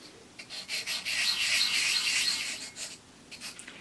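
A rusty cutting blade of a bonsai tool is rubbed flat against a sharpening stone, giving a few short scrapes followed by one longer, steady gritty rub, close and fairly loud with no talk.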